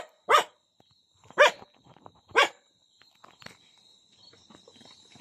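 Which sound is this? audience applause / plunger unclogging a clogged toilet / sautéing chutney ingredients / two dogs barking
two dogs barking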